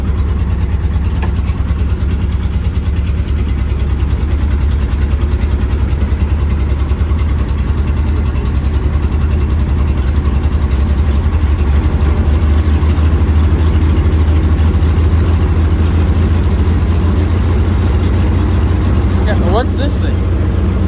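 A Mercedes street sweeper's engine runs loud and steady for the whole stretch, a heavy low idling rumble, while people talk over it.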